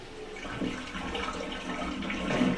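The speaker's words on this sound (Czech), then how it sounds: "Hele, už je spláchnuto" A toilet clogged with limescale buildup flushes with a steady, close rush of water that swells slightly toward the end.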